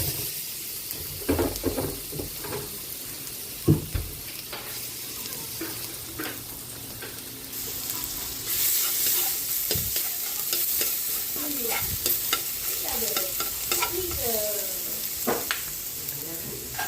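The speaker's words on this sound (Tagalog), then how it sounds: "Magigisa na po tayo. Bigyan natin ng butter. Sabay na natin yung bawang." Butter and garlic sautéing in a home kitchen pan, a steady sizzle and hiss with frequent stirring scrapes and clinks, close and continuous throughout; no talking.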